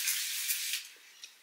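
A setting spray misted over a made-up face: a bright, airy hiss lasting about a second, then a short second burst, close to the microphone, with no talking.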